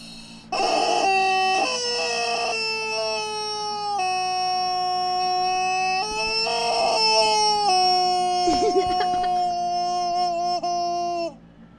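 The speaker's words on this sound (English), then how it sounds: "So when you squeeze him, he squeaks." Buster, a plush squeaky toy chicken, gives long, loud, high-pitched squeals, each wavering in pitch as the toy is squeezed repeatedly, close up with hardly any talk.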